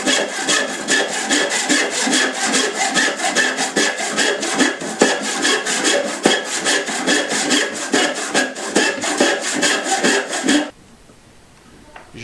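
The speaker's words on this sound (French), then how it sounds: "Je vais le couper grossièrement à la main en ajoutant 2 cm" Rapid, rhythmic strokes of a hand saw roughly cutting a wooden post, loud and close, continuing steadily before stopping abruptly into near silence.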